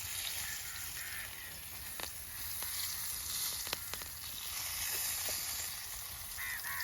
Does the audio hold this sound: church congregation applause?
no